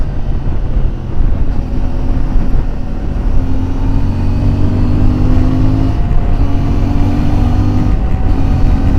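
CFMoto 450 MT motorcycle engine droning continuously while riding on a road, a steady close mid-low hum with slight pitch shifts from gear and throttle changes, wind noise over it and no talking.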